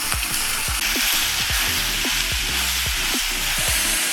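Chopped onions and tomatoes fry in a pan on a home stove, a loud steady sizzle with a spoon repeatedly stirring and scraping in an uneven rhythm close by.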